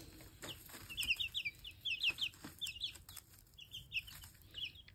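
Young chickens kept in a box give quick, high chirping peeps in short clustered bursts with brief pauses, close by, over a soft steady background hiss and no talk.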